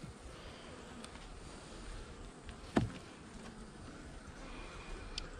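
Honey bees buzz softly around beehive nucs during an early December hive inspection. Faint, steady humming is broken once by a louder bee passing close by.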